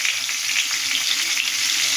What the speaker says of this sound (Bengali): দিয়ে দেবো একটু নুন, দিয়ে পেঁয়াজটাকে একটু ভাজা ভাজা করে নেব